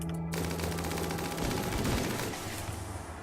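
Rapid bursts of gunfire in the video game Rimworld, a dense crackle of shots with a booming impact near the middle, loud and continuous, no voices.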